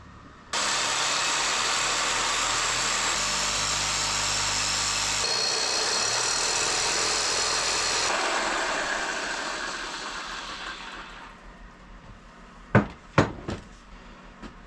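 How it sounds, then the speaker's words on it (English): A Sawzall reciprocating saw cuts at the bottom plate of a Briggs and Stratton engine, a loud steady buzzing rasp that runs for about ten seconds, fades out, and gives way to a few sharp metallic knocks. "I don't have any other way to get this off other than the Sawzall"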